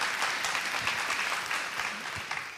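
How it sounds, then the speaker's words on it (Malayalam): Audience applause after a stage dance performance, a dense, steady patter of many hands clapping together at moderate distance, sustained for a few seconds. "നല്ലൊരു കയ്യടി കൊടുക്കണം എല്ലാവരും ചേർന്നിട്ട്"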